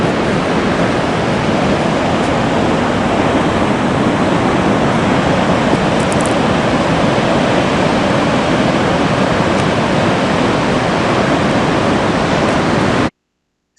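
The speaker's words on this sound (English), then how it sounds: "The ocean is roaring in the background" Ocean surf roaring on the Oregon coast in Tillamook County during bad weather: a loud, constant, dense wash of breaking waves, unbroken for the whole stretch before cutting off abruptly at the end.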